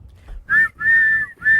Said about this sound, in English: let's blow the whistle because I've been waiting